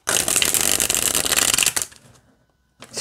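Black Seed Tarot cards riffle-shuffled, a dense, loud papery flutter lasting under two seconds, then a short quiet pause before another burst of card noise begins, close up with no voices.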